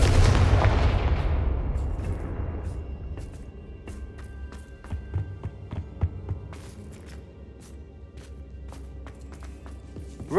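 Spell explosions from the Hogwarts Legacy video game boom heavily at the start, then decay into a rumbling tail. Sharp scattered cracks and thuds follow through the rest of the clip, with no voices.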